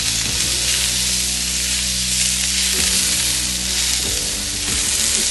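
Food sizzles loudly and steadily on a hot barbecue outdoors on the Isle of Lewis, a close, constant frying hiss with faint clinks of handling underneath.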